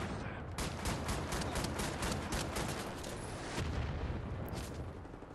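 Rapid bursts of gunfire and booms from the Wolfenstein: The New Order video game, a dense string of sharp shots over a few seconds, no talk.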